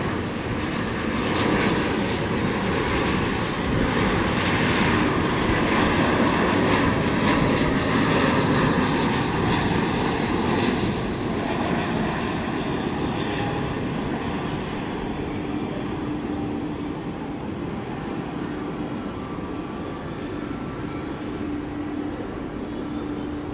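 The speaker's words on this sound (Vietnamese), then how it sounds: "Còn đây là chiếc Airbus A321 của Air Cambodia." An Air Cambodia Airbus A321 jet at Tan Son Nhat airport gives off a steady, broad engine roar and whine at moderate distance, swelling slightly and then easing off gradually, with no voices.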